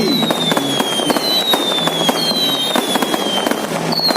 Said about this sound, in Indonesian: serunya kembang api 2020 malam hari ini.